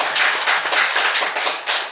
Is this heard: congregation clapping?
yes